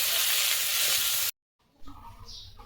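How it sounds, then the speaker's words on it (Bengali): Bottle gourd and green chilies hitting hot oil with browned garlic, a loud, bright sizzle that cuts off abruptly, then quieter frying and a soft hiss return. "এবার লাউটাকে দিয়ে দেবো, আর এখানে কাঁচা লঙ্কা আছে, ভালো করে মিশিয়ে নেব।"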